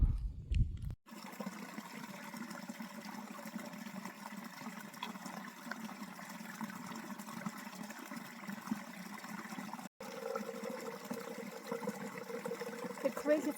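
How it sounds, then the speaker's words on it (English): A small forest creek in Coromandel Forest trickles and runs softly, a faint continuous watery hiss that keeps going throughout with brief handling clicks and a dropout along the way. "The creek is less than ideal, but it has some runny water"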